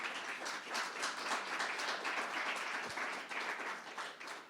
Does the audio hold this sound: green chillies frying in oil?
no